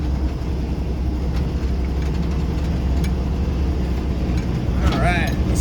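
A 1983 Jeep CJ5 with a 4.2L engine drives up a slippery dam, its steady low engine drone and rumble running throughout, with a voice briefly heard near the end.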